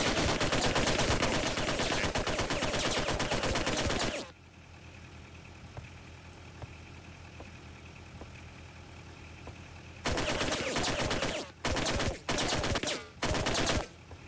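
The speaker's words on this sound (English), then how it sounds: "Is that one of us shooting, or is that them shooting at us?" Bursts of automatic gunfire in the WWII Online battle game, a dense loud volley for about four seconds, then quiet with a low hum, followed by several shorter rattling bursts near the end.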